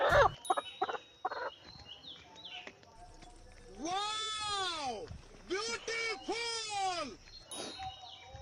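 Chickens being carried by hand give several loud, drawn-out squawking cries in bursts, preceded by short clucks and rustling, with people talking faintly in the background.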